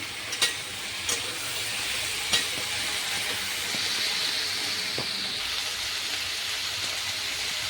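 Vegetables for Bengali shukto, salted, fry in a pan with a continuous soft sizzling hiss, broken by a few sharp clicks and taps of stirring.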